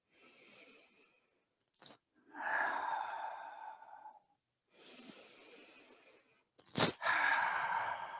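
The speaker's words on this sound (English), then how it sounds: "you can give a real audible exhale." Strong, audible breaths during a qigong punching exercise come as several forceful, breathy rushes of air, each lasting a second or two and separated by brief pauses, heard close up.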